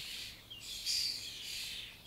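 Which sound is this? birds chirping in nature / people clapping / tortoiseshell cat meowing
birds chirping in nature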